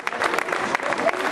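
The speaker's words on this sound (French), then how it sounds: "On applaudit très fort" A crowd at an outdoor race podium ceremony applauds, a moderate wash of clapping with sharper individual claps, mixed with crowd murmur and a voice.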